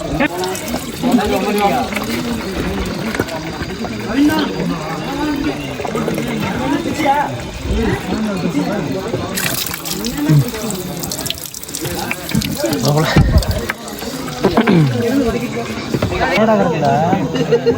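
Water splashes and gushes steadily from a pipe throughout, while several people talk over it, on a night hike up Velliangiri mountain.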